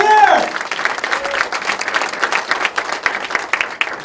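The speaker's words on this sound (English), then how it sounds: "Give him a big round of applause" A magic show audience gives a big round of applause as a volunteer comes on stage: loud, sustained clapping and cheering, with a brief voice at the start.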